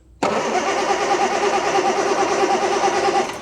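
A Triumph 2000 MK1, bent and rusty, turns over up close. It starts abruptly and holds a loud, steady mechanical churn for about three seconds, with no talking.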